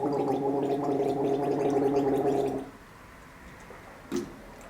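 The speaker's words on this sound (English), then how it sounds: "Gargling forces you to create a stream." Someone gargles water in a steady bubbling rattle for a few seconds, then stops, followed by quiet and a single short sound.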